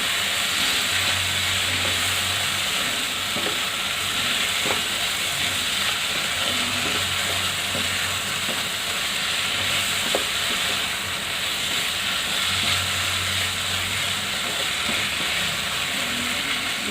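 Finely chopped paneer sizzles steadily in a hot pan for paneer keema, a continuous, even frying hiss with faint stirring clinks, close and unbroken, with no talking.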